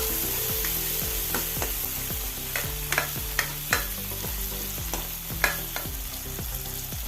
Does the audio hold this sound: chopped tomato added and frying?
yes